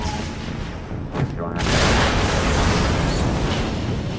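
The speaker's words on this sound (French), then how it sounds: "On va leur jeter une belle grenade." A grenade blast in the shooter game Far Cry 3 Blood Dragon: a loud, broad explosive boom that swells and rumbles on for several seconds, with a voice talking over the game sound.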